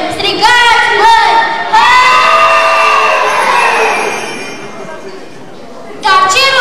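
Girls shouting together at a school winter-customs performance, a loud burst of massed voices with cheering crowd noise, rising and falling over several seconds before another shout at the end.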